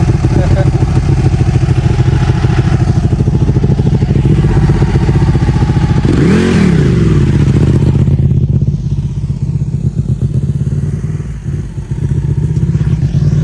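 A Ducati motorcycle arriving in a half-desert setting near Dubai, engine loud and close, idling with a sharp rev midway, then settling back down, with people talking over it.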